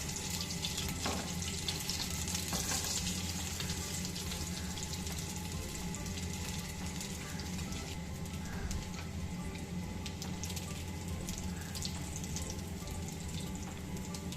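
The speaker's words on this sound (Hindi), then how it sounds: "अब हम इनकी साइडें चेंज करेंगे और उन दूसरी साइड से भी अच्छी तरह फ्राई" Shami kebabs sizzle and fry steadily in a pan after being flipped, a continuous hissing crackle with no talking.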